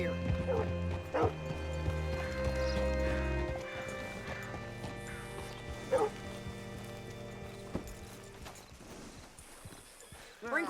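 Hooves clip-clopping as a horse is ridden and hitched in Red Dead Redemption 2, a steady rhythm at the start and again near the middle, mixed with game music, a dog's barks and a horse's whinny, while people talk.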